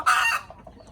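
Free-range village chickens give one loud, close, raspy cluck-like call that fades quickly into quiet background.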